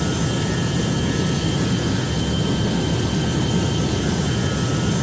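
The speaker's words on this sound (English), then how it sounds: "And we're going to go ahead and take off." A Boeing 737 takes off in a flight simulator video game, a loud, steady roar of jet engines that fills the whole stretch with no talk.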